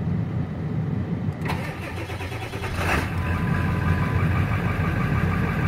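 A 2001 Ford F250 extended cab long bed with a 7.3 liter diesel engine cold-starts after a brief crank, catching around the one-and-a-half-second mark and settling into a loud, steady, clattering idle close by with no talk.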